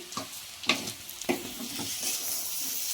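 Chicken liver sizzles in a pan with curry leaves and coriander, a steady fizzing fry broken by several sharp scraping stirs of a spoon, close and clear, with no talking.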